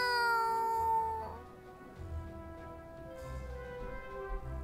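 A cat meows in the video game Super Neptunia RPG, a single drawn-out tonal cry heard clearly over quiet background music, with no talking.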